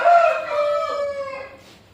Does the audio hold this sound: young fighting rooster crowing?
yes